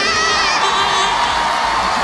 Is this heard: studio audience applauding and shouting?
yes